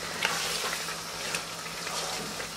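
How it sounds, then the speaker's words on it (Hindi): Mutton sizzles and fries in a pan on high flame, a steady dense crackle with occasional louder pops and faint stirring, heard alone and fairly close. "यहाँ पर हाई फ्लेम पर हमने भून लेना है।"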